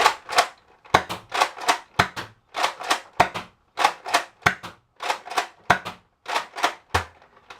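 A Nerf blaster firing darts, a string of about fourteen sharp, close snaps in a quick, slightly uneven rhythm with short pauses between bursts.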